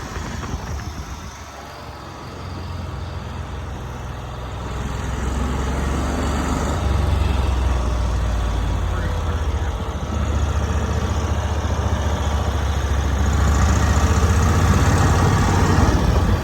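A 1990s Cushman Truckster utility vehicle engine running as it drives, a steady mid-low mechanical drone that rises and swells as it moves along, loud and close with no clear talk.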